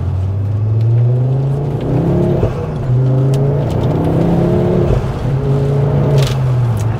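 A Ford Focus ST MK2 engine accelerating hard while driving, a strong low droning growl rising in pitch through the revs, then dropping at a gear change before climbing again, loud and heard from inside the car.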